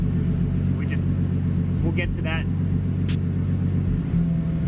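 A BMW E36 engine idles steadily with a low, continuous rumble while the cooling system is bled, someone talking briefly over the running motor.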